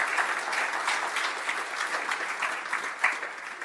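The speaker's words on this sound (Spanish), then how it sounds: "Un aplauso para ustedes." A church congregation at an evangelical service claps steadily together, a dense and fairly loud round of applause lasting a few seconds without pause.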